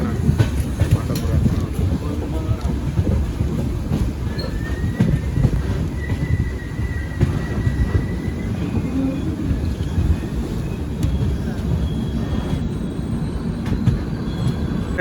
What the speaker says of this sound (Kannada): ಜಸ್ಟ್ ನಮ್ಮ ಟ್ರೈನ್ ಎಂಟ್ರ್ ಐತ್ರಿ ಪಾಂಡವಪುರಕ್ಕೆ